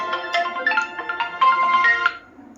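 A melodic electronic ringtone plays close by, a quick run of bright tones repeating for a couple of seconds before cutting off.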